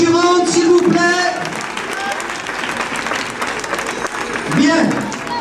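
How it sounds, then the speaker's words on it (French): An audience at an outdoor Christmas show at an amusement park claps for the contestants, a steady wash of applause. Music with voices and a tonal melody plays over and around the clapping. "on applaudit toutes les concurrentes, s'il vous plaît"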